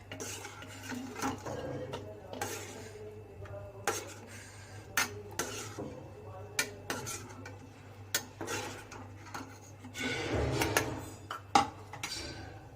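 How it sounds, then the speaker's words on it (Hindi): Momo chutney scooped from a pan into a bowl with a spoon, bringing a run of sharp metallic scrapes and clinks against cookware, close and irregular. "अब चटनी को हम इसमें निकाल लेंगे।"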